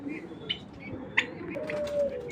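A racing pigeon gives soft, low coos close by, with a few brief higher chirps and faint background noise.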